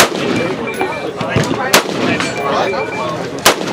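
Rifles fire single shots at an outdoor shooting range during an industry day, with sharp loud cracks at spaced intervals, one close and prominent, over a busy background of distant shots and voices.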